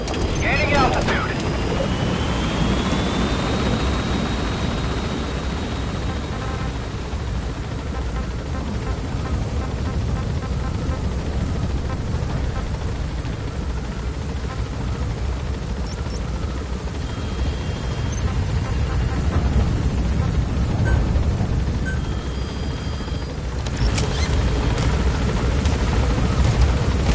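A Metal Gear Solid V helicopter climbs in altitude, its steady rotor and engine whine droning continuously throughout, with occasional mechanical clunks and bursts layered over the constant hum.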